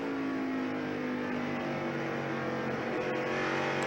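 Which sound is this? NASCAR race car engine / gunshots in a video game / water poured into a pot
NASCAR race car engine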